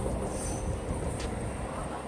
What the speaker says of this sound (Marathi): हे पहिली ट्रेन दाखवतो